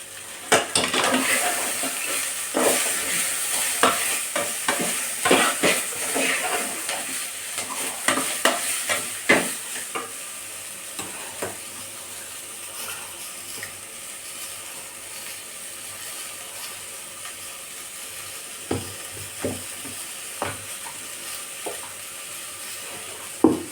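Bitter gourd and other ingredients sautéing for a Tamil tamarind curry, with steady sizzling and a utensil repeatedly scraping and stirring against the pan, busiest in the first ten seconds, then sparser clinks.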